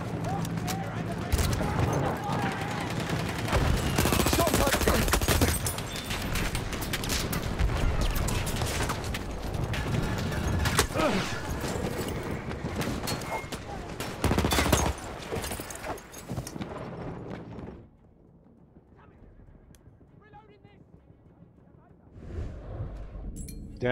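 Dense, loud gunfire from Battlefield 1 Operations mode, with sustained bursts and rapid shots layered over heavy battle noise, under a player's excited talk, then dropping to quieter ambience before another burst at the end.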